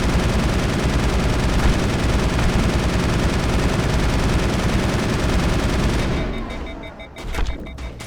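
Sustained, dense assault rifle fire in the video game Mass Effect, loud and continuous for about six seconds before breaking off into scattered shots and quieter game sounds.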